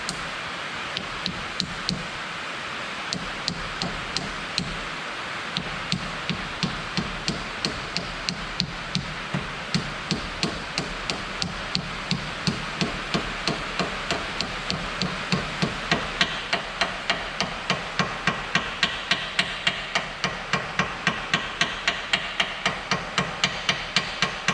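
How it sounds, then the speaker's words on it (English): A new seal is tapped into place with a hammer: a long, steady series of light, evenly spaced metallic taps, close up, over a low background hum. "And then just gently tap her into place."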